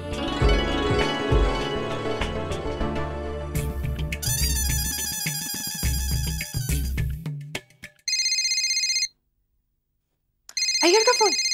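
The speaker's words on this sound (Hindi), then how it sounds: "अय्यर का फोन" A telephone ringtone trills in two bright, repeating electronic bursts after a stretch of talk and music, with a short silence between the rings.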